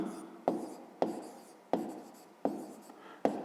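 A pen on paper in a fifth-grade maths exercise, five sharp strokes at roughly even intervals, each a quick scratch fading out, close and fairly quiet.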